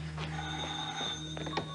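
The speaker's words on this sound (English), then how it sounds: "I wonder if we should answer the phone." A telephone ringing indoors, faint electronic ring bursts over a steady low hum, heard at a distance in a quiet room.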